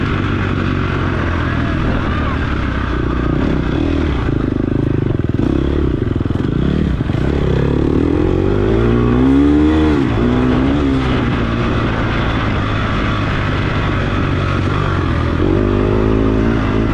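An off-road dirt bike races in third gear, its engine loud and close, revving in rising and falling sweeps with clattering over the course of the ride.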